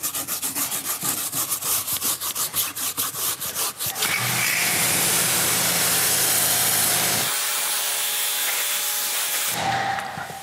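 A stiff tire brush scrubs the aggressive treads of a Chevrolet Silverado 2500 truck tire, first in quick rhythmic back-and-forth strokes, then as a steady loud rubbing hiss nearby.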